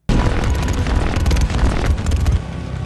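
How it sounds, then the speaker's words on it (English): A sci-fi weapon sound effect from the Dune films fires as one loud, dense blast: a deep, booming low-end burst from the barrel followed by rattling high impact textures, sustained for nearly three seconds before easing off. "the initial low-end sound from the ammunition firing out of the barrel, followed by the high-pitched tactile impact sounds"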